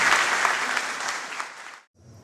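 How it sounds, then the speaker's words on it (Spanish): An audience at a conference on condominium administration breaks into strong, sustained applause to welcome a speaker, the clapping dense and even before cutting off abruptly, followed by a brief faint murmur. "Por favor, lo recibimos con un fuerte aplauso."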